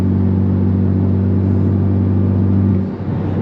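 Honda Type R engine pulling up a hill under 4 PSI of boost, a loud steady droning hum from inside the car that drops off sharply near the end.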